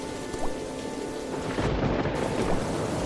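Steady heavy rain pours down with a deep rolling rumble of thunder building through the middle, a continuous dense wash of storm noise with no voices.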